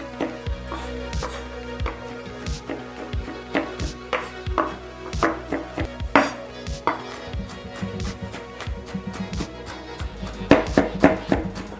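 A knife chops onion on a cutting board in a series of sharp, close thuds, irregular bursts with short pauses, growing faster and louder toward the end.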